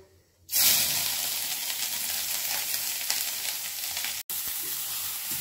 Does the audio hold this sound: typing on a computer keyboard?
no